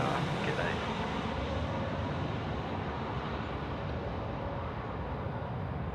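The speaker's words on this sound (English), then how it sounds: "That's a Jetstar. It's an A320." A Jetstar Airbus A320 passes overhead at night at Sydney Airport, a steady broad jet roar that fills the whole stretch without fading.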